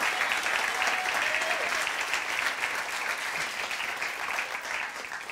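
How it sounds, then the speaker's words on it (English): A church congregation at a midweek service applauds its pastor, a continuous dense wash of clapping that stays loud and even, slightly fading toward the end. "Give your pastor a round of applause."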